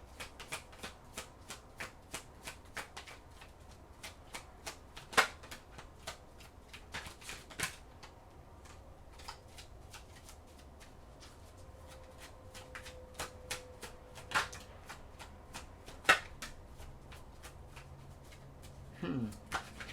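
Tarot cards being shuffled up close, a run of quick papery riffles and soft slaps with a few sharper snaps, fairly quiet and alone for most of the stretch.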